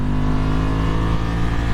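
A steady, loud engine drone from a 2020 Ducati Scrambler Cafe Racer motorcycle, with a low rumbling throb, held at a constant revving pitch throughout, close by and alone with no voices.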